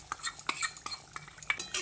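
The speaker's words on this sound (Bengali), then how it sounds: "তারপর এর সঙ্গে দেখুন নেড়েচেড়ে মিশিয়ে দিচ্ছি" A spoon rhythmically stirs and clinks against a pot as ghee-fried gram flour is mixed into a kochu curry, with quick, close, repeated scraping taps.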